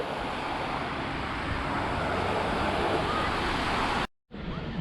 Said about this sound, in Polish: I wiatr. Taki chłodny wiatr